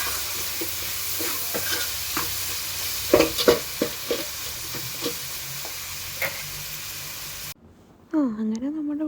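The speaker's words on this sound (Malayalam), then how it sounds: "അങ്ങനെ നമ്മുടെ ഉള്ളി നല്ലപോലെ വഴണ്ട് വരുന്നുണ്ട്" Onions salted and sautéing in a pan for a Kerala-style coconut chicken curry, with steady sizzling and stirring scrapes through most of the clip before a brief pause, then a voice speaks at the end.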